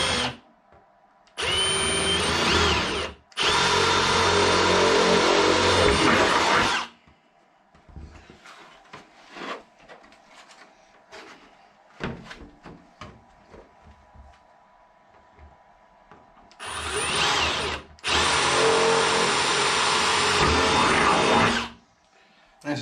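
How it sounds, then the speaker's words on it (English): A power drill with a drill bit whirs in two loud bursts, stopping briefly in between, then runs again in a second pair of bursts after a stretch of quiet handling noises, drilling holes in an RC car body. "if you are using drill bits to do this, you be very careful"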